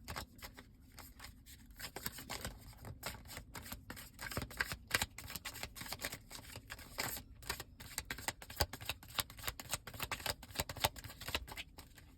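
Tarot cards being shuffled by hand for a reading, a close, continuous riffle of crisp papery flicks and slaps lasting throughout, with no talking.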